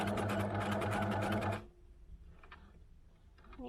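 Sewing machine stitching fabric, a fast steady mechanical whir with a rapid needle rhythm that runs loudly for about a second and a half and then stops abruptly, leaving faint handling clicks and quiet room sound.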